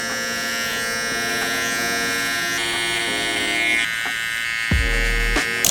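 Electric hair clippers with a number 4 guard buzzing steadily at close range while clearing hair for a burst fade, with a brief change in tone near the end.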